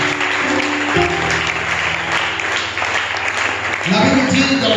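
A church congregation applauds the Lord in a steady wash of clapping that swells again near the end, with voices and music running underneath.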